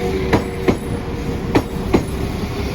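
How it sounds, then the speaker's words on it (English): A Class 172 diesel multiple unit passenger train rolls past close by on the Birmingham to Worcester line, its wheels clacking over rail joints in a few sharp, evenly spaced beats. "Here comes my train, which is going to take me to Old Hill."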